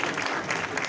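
An audience at an event at Arusha Technical College breaks into dense, continuous applause, many hands clapping together loudly and close throughout.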